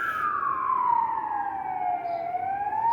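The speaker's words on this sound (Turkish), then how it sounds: "baya bir siren sesi çaldı da bir gerildim şu an. Ambulans sanırım." A wailing ambulance siren sweeps slowly downward and back up, heard steadily from indoors outside the window with no other sounds competing.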